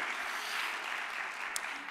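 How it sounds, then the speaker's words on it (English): Audience applause at an immigrant rights gathering in Brooklyn, a steady, moderately distant patter of many hands clapping for the full two seconds, with no voices over it. "So a real clap for the audience."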